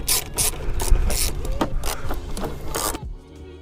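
Hose clamps being loosened on the air intake of a 2011-or-later S197 Mustang 5.0, a close ratcheting tool clicking in quick, uneven bursts with scraping metal, ending abruptly near the close.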